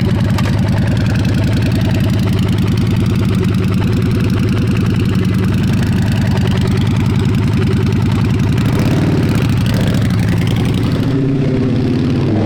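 A custom bobber motorcycle's engine runs loud and close at a steady, throbbing idle, with a small throttle rise near the end and no talking.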